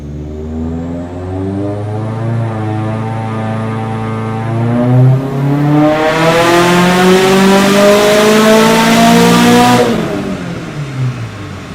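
A loud Woolman 2.5L engine with boost added revs hard and steadily for about twelve seconds, its pitch climbing and then dropping back, close up with no voices.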